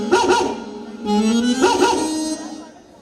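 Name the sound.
dog barking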